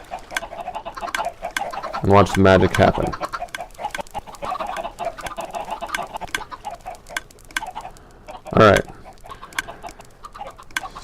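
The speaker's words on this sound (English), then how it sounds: "we're going to fill this thing with chickens" Video game chickens cluck loudly in two short bursts, with a person talking over the farmyard clucking between them.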